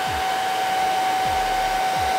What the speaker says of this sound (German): ein bisschen wärmer den Föhn. Ich habe jetzt auf dritte Hitzestufe